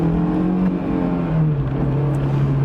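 Honda S2000 convertible accelerating, its engine a loud, close, steady drone heard from inside, with a couple of brief pitch drops like gear shifts and no talking.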